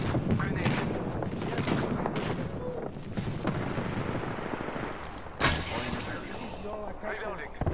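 A grenade bursts amid sustained gunfire in a video game, a dense rattle of shots with a sharp loud blast about two-thirds through, while players talk over it.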